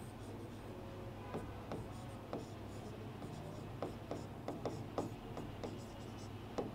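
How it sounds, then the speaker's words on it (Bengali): A teacher writes notes during a physics class: faint, scattered scratching strokes, some in quick clusters, over a low steady room hum. "তাহলে আমরা একটু লিখি"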